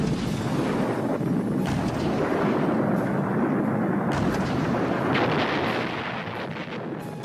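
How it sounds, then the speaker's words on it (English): Heavy World War I howitzer artillery fire rumbles as a dense, continuous barrage, with repeated booms and blasts blending into a loud, sustained roar throughout. "Modern-day catapults launched 16-inch projectiles that pounded and flailed the landscape."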